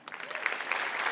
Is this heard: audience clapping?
yes